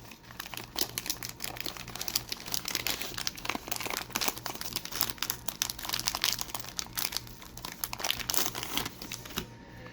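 A 1987 Topps baseball card jumbo pack's wax wrapper crinkles and crackles continuously up close as it is opened, dense and steady throughout with no voice.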